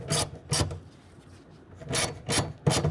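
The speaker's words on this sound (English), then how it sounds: "Then we're going to tighten that down with a 1/2 inch." Ratcheting a 1/2 inch wrench to tighten a clamp bolt on a Revolver X4TS tonneau cover, 2022 Toyota Tundra bed; five loud rasping bursts in uneven rhythm, close up, with no talk.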